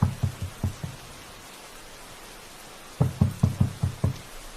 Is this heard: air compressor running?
no